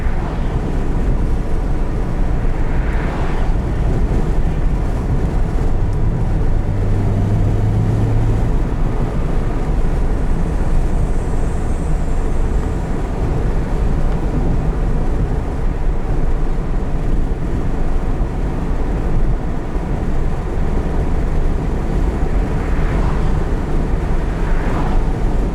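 A 2019 Mazda MX-5 Miata RF sports car engine drones steadily from inside the cabin while driving, mixed with constant road and wind roar and no talking.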